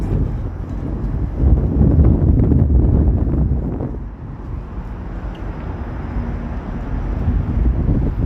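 Outdoor wind buffeting a microphone, a loud low rumbling roar that swells and eases, stronger at first and then settling into a steadier gusty hiss.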